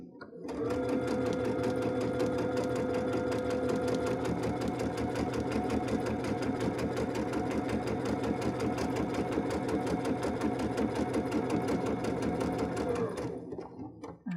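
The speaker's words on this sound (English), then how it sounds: "So we're going to put this under our presser foot at about 1/4 inch here. And we are going to sew down the edge." A domestic sewing machine runs steadily for about thirteen seconds, stitching a quarter-inch line down a fabric edge for a summer dress, with a rapid even needle rhythm close by before it stops.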